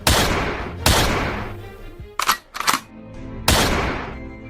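Gunfire in the Free Fire video game: loud bursts of shots cut in sharply, with a quick double crack in the middle and another burst near the end.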